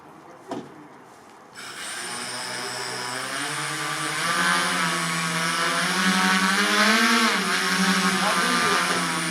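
After a sharp click, the propeller on an aluminium aero motorcycle starts up and drones loudly, rising and wavering in pitch as a light rider takes it out on a test run.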